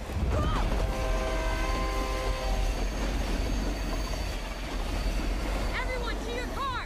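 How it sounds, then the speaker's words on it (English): A speeding train in the video game Fast & Furious Crossroads, with rolling rail rumble, squealing wheels and clatter that stays loud and continuous, while sharper whistling tones rise near the start and end. "How are we supposed to catch a speeding train?"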